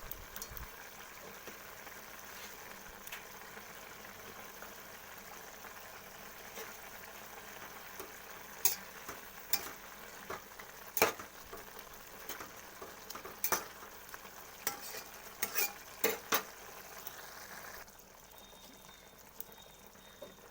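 Chopped onion, half an onion's worth, frying in a pan while being stirred, a steady soft sizzle with scattered scraping clicks of a utensil, fairly faint and without speech.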